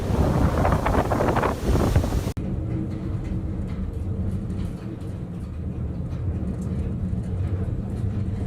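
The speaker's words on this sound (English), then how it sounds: "A cruise ship gets caught in monster waves in the Labrador Sea" A cruise ship caught in monster waves in the Labrador Sea off Greenland, heard as heavy roaring wind and crashing water. A loud burst is cut off abruptly and followed by a steady, rumbling wash of wind and sea.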